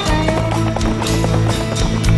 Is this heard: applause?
no